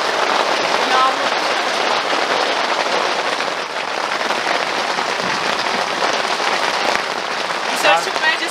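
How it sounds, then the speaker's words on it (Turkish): Heavy rain drums steadily on a tent during a thunderstorm, a loud, dense patter with no letup, and a faint voice briefly underneath. "Yağmur."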